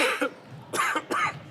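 Three short coughs, close and fairly quiet, the first softer and the last two stronger, evenly spaced.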